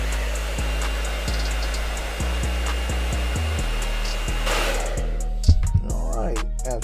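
A heat gun blows steadily on a pistol grip being fitted to a Canik TP9 SFX, a constant close airflow roar with faint hum, ending in a few sharp handling clicks and knocks.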